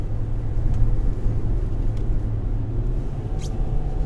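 A Kia Optima SX Turbo is driven through a series of turns, heard from inside the cabin as a steady low road and engine rumble with a few faint ticks, with no one speaking.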